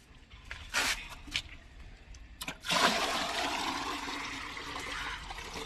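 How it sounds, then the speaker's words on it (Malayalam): Water is poured into a bucket being set up for guppy fish: a few soft knocks and splashes first, then a steady, close gushing pour that runs to the end. "ഇനി നമുക്ക് അതിലേക്ക് വേണ്ട വെള്ളം ഒഴിച്ചു കൊടുക്കാം."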